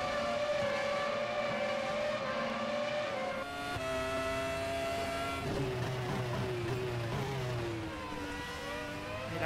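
Race car engine in the Raceroom racing game, a loud sustained high-pitched whine that drops under hard braking into a chicane, then climbs and revs again as the car accelerates out.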